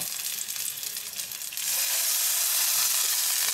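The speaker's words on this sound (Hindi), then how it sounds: "मैंने पैन लिया है, इसको मैंने इसमें थोड़ा घी डाला है ग्रीस होने के लिए। अब हम इसमें बुरेटो को सेकेंगे।" Burrito sizzling in a pan greased with ghee, a steady bright frying hiss that grows louder and denser partway through, with no voices.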